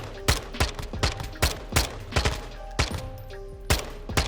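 Kastov-74u gunfire in Call of Duty Modern Warfare 2, a dozen sharp, evenly spaced single shots cracking out about every third of a second, loud and close, with no talk over them.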